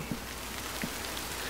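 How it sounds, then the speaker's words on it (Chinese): Steady rain falls in the horror game Tsugunohi, a soft continuous hiss with a few faint drip-like taps over the top, even and unbroken throughout. "又下雨，他妈怎么每天都下雨啊？"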